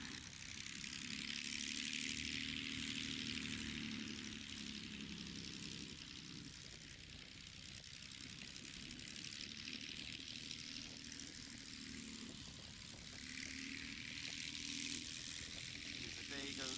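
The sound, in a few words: Swift light airplane taxiing at Oshkosh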